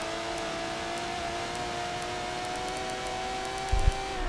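Aston Martin DBR9 race car at Watkins Glen powering out of a corner, its engine a steady, fairly distant droning tone that holds level throughout, with a brief low thump near the end.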